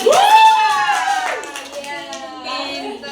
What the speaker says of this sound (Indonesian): Dan tepuk tangan